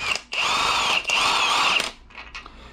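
Power tool on a 27 mm timing chain tensioner bolt of a damaged Mercedes-AMG M113K engine, two loud whirring bursts with a brief pause between, then quieter clicking as it stops.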